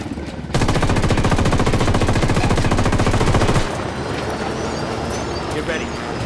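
Automatic gunfire in the Ghost Recon Wildlands video game rattles off in a long, loud, rapid burst, then cuts out to quieter background action.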